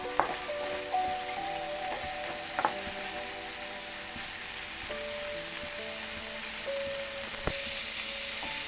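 Tamarind leaf chutney sizzles and fries steadily in hot oil, a continuous close crackle with occasional stirring clinks and scrapes throughout.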